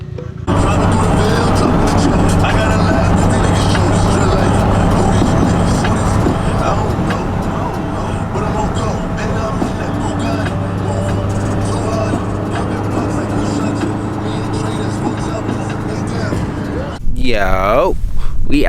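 A blue-purple Subaru WRX STI sits on a rainy night with its engine humming close by under rain and voices, then gives a sharp rev near the end.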